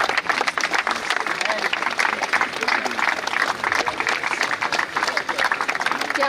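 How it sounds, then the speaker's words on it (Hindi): Applause rolls across an outdoor cricket ground at a blind cricket event, steady dense clapping from a crowd with voices mixed in throughout. "तालियों की गड़गड़ाहट मैदान में बहुत अच्छी लगती है।"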